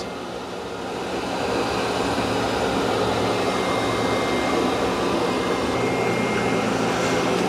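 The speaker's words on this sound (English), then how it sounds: "it can lift the mop pads and start vacuuming carpet" A Roborock QRevo MaxV robot vacuum and mop with its mop pads lifted vacuums carpet, a steady loud whooshing motor drone that ramps up in the first second and then holds constant.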